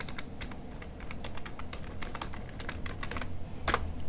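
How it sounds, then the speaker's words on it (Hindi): Typing on a computer keyboard to enter a name and website address into a Gmail signature, a fast, continuous patter of close key clicks ending in a louder keystroke, with no talking. "यहाँ पर लिख देता हूँ मैं नाम और उसके बाद यहाँ पर मैं अपनी वेबसाइट का पता लिख देता हूँ।"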